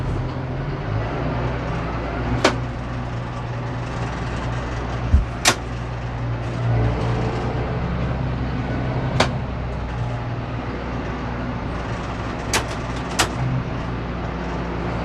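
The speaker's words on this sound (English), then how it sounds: "I'm gonna drive back and forth just to see if that gets oil flowing through it" John Deere Gator utility vehicle driving back and forth after a transmission O-ring repair, a steady low engine drone with occasional sharp clunks and knocks throughout.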